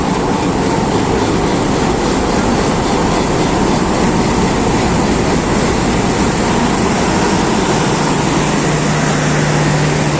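A Mehr Express train hauled by HD20 locomotive 8053 arrives at Rawalpindi station in a downpour, its loud, steady rumble filling the scene and mixing with heavy rain throughout.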